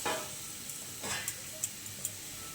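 Two green chillies hit hot oil while tempering for a Bengali bata fish curry, giving a faint, brief sizzle with a few sharp pops and ticks afterward.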